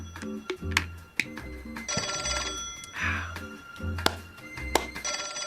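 A 1940s-style telephone rings repeatedly in the L.A. Noire video game, its bright bell bursts alternating with low game music tones and a few thuds, with a brief murmur under it.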